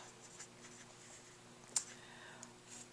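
A pen writing on paper while a petty cash fund entry is filled in, faint soft scratching strokes with one sharper tap, quiet and close with a low steady hum underneath.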